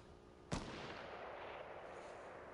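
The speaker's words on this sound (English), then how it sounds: "Bunnier, you know I'm the one shooting at you." A single loud gunshot in the Fortnite video game, a sharp crack followed by a long fading reverberant tail with no talk over it.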